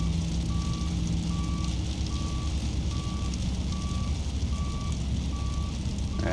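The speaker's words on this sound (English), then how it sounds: "And that's our tug backing out to head back home." An aircraft pushback tug reverses away from a Lufthansa CityLine Airbus A319 at a London Heathrow gate in a flight simulator, sounding a steady train of evenly spaced reversing beeps over a constant low engine and ramp drone.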